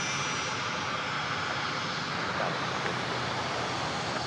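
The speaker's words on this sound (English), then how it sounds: "This will be an ERJ, an Embraer" An Embraer ERJ 145LR jet at Dallas Love Field gives a continuous broad engine roar, steady and loud throughout, with no break.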